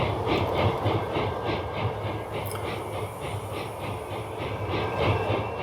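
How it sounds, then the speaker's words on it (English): Freight and passenger trains rolling through a small-town station in the EEP 15 railway simulator game, a steady droning rumble with rhythmic clickety-clack of wheels over rail joints and a brief high squeal. "You see some trains going in the background."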